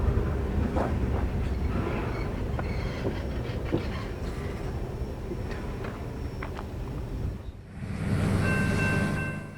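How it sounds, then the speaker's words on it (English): Southbound loaded ethanol freight train passing through Folkston, Georgia, a steady roll of wagons and wheel clatter at moderate distance, ending in a sustained tonal squeal or horn-like sound. "our first train would show up, being southbound loaded ethanol train B795, out of Linden, Indiana, down to Tampa, Florida"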